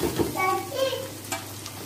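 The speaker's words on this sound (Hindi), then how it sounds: "इसको अच्छा से हम भून लेते हैं" Chicken liver (kaleji) frying with lightly browned onions in a pan: a steady close sizzle with stirring scrapes throughout, and a brief faint voice in the background.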